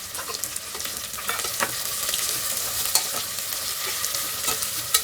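Carrot, bean and potato pieces stirred in a hot frying pan, soft sizzling under repeated scraping and tossing strokes of a spoon, close and steady with no talking.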